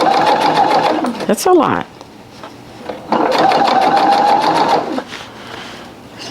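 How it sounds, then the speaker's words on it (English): Sewing machine stitching through four layers of denim with interfacing while making a bucket hat from upcycled jeans, running in two long steady bursts with a short pause between, a brief spoken remark in between. "I'm sewing through four layers of denim, interfacing"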